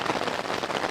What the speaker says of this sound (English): It's just non-stop hailing for the last, I don't know, 10, 15 minutes, whatever.